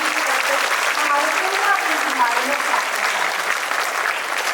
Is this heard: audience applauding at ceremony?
yes